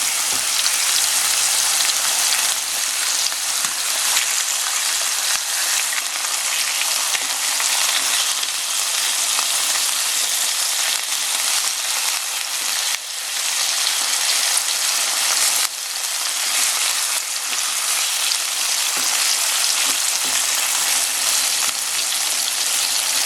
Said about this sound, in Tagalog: ngayon po na ilagay na natin lahat yung pork dito sa ating cooking pan